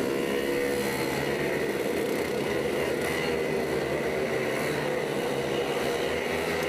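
Several two-stroke DRS100 race engines fire up together on the circuit at a championship heat, a dense, continuous buzzing engine roar that stays steady and loud throughout with no voices.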